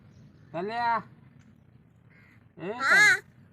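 A crow with a cough gives two harsh, close caws about two seconds apart, each one loud and drawn out, against a quiet background.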